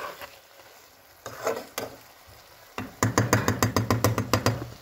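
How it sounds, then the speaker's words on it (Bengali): Fish cooking in a pan with salt and spices for a tomato fish curry, soft stirring scrapes at first, then a quick run of sharp, regular utensil knocks against the pan. "দিয়ে এখন নেড়ে চেড়ে দেবো, একটু কষানো হোক"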